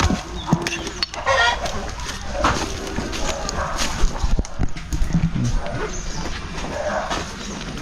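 Farm chickens cluck and call near and far in a rural yard, with a rooster faintly in the mix and occasional background voices.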